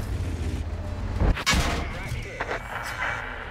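Tank cannon fire from a Vipera in World of Tanks, a sharp blast with rolling boom about midway, followed by fainter shots and rumble; speech runs over it.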